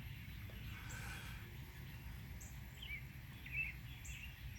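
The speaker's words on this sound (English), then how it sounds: "The birds sound so good." Birds sing outdoors on a spring day, scattered faint chirps and short calls over a steady low background hum, distant and quiet.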